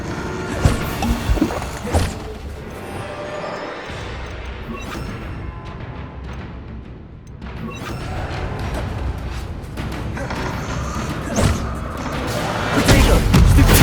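Blasts from the Bombarda spell in Hogwarts Legacy crash and boom among other spell effects, several loud impacts scattered through the stretch with a heavy blast near the end.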